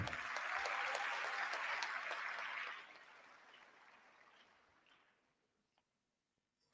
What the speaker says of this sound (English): Your applause is dying.